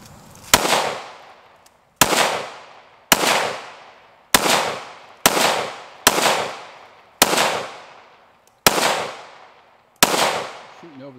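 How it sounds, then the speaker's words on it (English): FN, Ruger and PSA 5.7 handguns fired at target practice outdoors: nine sharp, loud shots at irregular intervals of about one to one and a half seconds, each ringing out briefly. "Shooting over the target."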